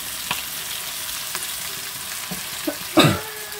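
A wok of vegetables and sausage with seasoning sizzles softly while a utensil scrapes and taps the pan in scattered strokes, with one louder clatter near the end.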